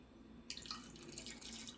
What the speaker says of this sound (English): I put some water in these cans, and I'm going to pour the water in here.